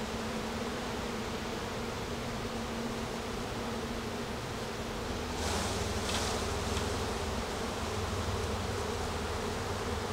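Dense, steady drone of honeybees buzzing at an open hive while brood frames are handled during a spring colony split, close and loud throughout, with a brief extra swell of buzzing midway.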